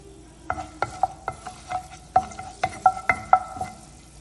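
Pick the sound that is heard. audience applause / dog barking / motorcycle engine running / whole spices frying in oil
whole spices frying in oil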